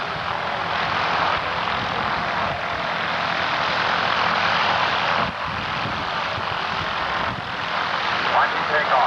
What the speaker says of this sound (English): Watch it take off now. As he applies full power, all three wheels will leave the ground simultaneously.